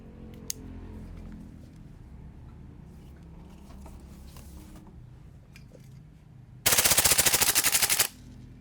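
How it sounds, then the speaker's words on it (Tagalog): A gas blowback airsoft gun (CYMA x EMG MWS-compatible) fires one short, loud full-auto burst of rapid rattling shots near the end, after quieter handling sounds and background hum. "So i-fill naman natin yung full auto niya."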